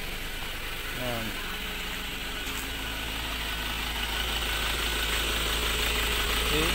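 A 2020 Ford Everest engine idling with the hood open, a steady low hum at modest level, with a brief voice briefly over it.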